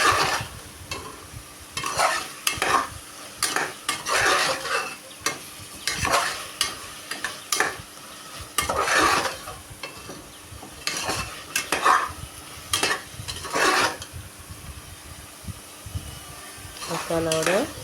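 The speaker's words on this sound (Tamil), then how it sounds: "நல்லா மசாலா எல்லாம் நல்லா போட்டு பரட்டி எடுங்க." Mushrooms and masala fry in a pan for biryani, with repeated scraping stirs and utensil clatter in irregular bursts over a soft sizzle, close and fairly loud.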